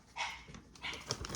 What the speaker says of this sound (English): you can probably hear some of my dogs, my own personal dogs, out in the background.